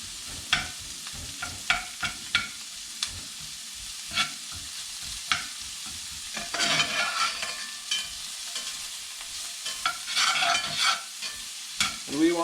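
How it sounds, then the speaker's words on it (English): Onions fry in a pot for chili while a spoon stirs them, giving repeated scraping clicks over a soft sizzle that swells into louder bursts of frying, close by with no talk. "So we'll break our onions up."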